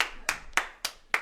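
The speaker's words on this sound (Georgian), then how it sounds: "ტაში." Applause greets a political party leader at a televised event: four evenly spaced, crisp hand claps in a steady rhythm, close and moderately loud, with no voices.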